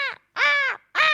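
A crow caws three times in quick succession, loud and close, each a harsh, raspy call with a brief gap between, the middle one longest.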